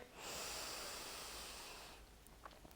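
A long, deep inhalation during a yoga session, a steady airy rush that swells and holds for nearly two seconds before fading into near quiet, with no talk over it.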